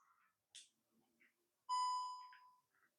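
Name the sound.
DJI Osmo Mobile 3 gimbal beeping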